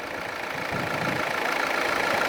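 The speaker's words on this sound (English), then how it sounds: "Has a 2-litre turbo diesel 4-cylinder engine" A 2014 Volvo XC60 D4 R-Design with a 2.0-litre four-cylinder turbo diesel idles steadily and close by, with an even, continuous drone that swells slightly partway through.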